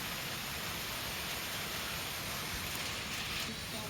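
Steady, dense hiss of rain falling, loud and unbroken with no distinct drops or voice, continuing the whole time.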